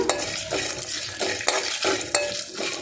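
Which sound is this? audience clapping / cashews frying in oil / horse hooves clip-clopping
cashews frying in oil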